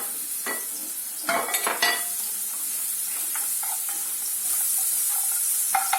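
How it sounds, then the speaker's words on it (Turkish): Onions and peppers sauté together in a pan, a steady hiss of frying running throughout with a few sharp scraping stirs near the start and a couple more later. "soğanla biberi birlikte kavurmaya devam ediyorum"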